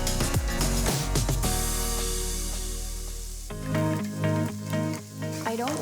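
Garlic sizzling in a hot pan for a vegetarian soba noodle bowl, a bright frying hiss mixed with stirring scrapes and background music, no talk.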